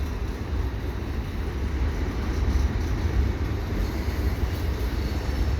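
A westbound CN freight train of tank cars, boxcars and hoppers rolls past at Falaise St Jacques, a steady low rumble with continuous wheel noise throughout.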